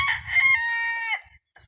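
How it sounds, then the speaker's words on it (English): A Bantam rooster crows once, close and clear: a single long cock-a-doodle-doo that holds steady and then cuts off, followed by quiet. "You gotta appreciate these two Bantam roosters."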